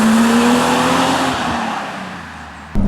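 BMW Z3 M Coupé with a 321 hp engine revving hard to high rpm, a loud steady engine note with a rising tone that fades off slightly before a sudden shift in sound near the end.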